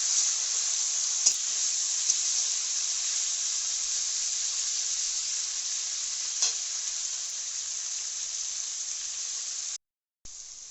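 Pumpkin stalks and potatoes sizzle steadily in a hot pan while being stirred: a continuous close frying hiss with a few faint taps, cutting out briefly just before the end.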